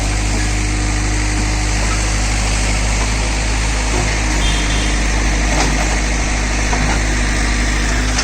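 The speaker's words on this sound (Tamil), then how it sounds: "ஜேசிபியில் இது கிர்லோஸ்கர் இன்ஜின் மாடலுங்க, 2005 மாடல்." JCB 3D backhoe loader with a 2005-model Kirloskar engine, idling steadily on a coconut farm, a deep continuous diesel rumble with vibration, close and unbroken, no voices.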